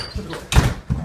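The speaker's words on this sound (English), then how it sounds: "Shut the door." A door swings shut with a solid thump close by, landing after a short stretch of quieter room noise and followed by another lower knock as it settles in its frame.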